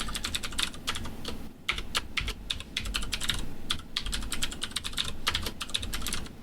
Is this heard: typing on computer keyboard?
yes